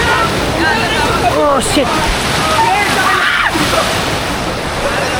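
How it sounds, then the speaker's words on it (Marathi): Heavy rain beats down beside a swollen village river near Murud, with rushing, sloshing water loud and close throughout and a man briefly exclaiming over it. "पाऊस जोरात आलाय"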